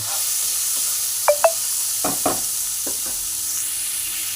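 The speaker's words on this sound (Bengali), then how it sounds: "দেখুন বন্ধুরা আমি চিংড়ি মাছগুলোকে এইভাবে ভেজে তুলে নিয়েছি" Prawns lightly frying in oil, a close, steady sizzle with several short scraping clinks of a utensil stirring the pan, before the frying fades out at the end.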